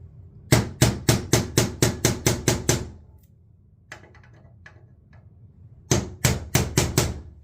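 A hammer strikes a nail setter in a glass-paneled door frame during a repair. A fast run of about nine sharp, close taps comes first, then a quiet pause with faint shuffling, then another burst of five taps.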